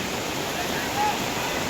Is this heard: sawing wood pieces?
no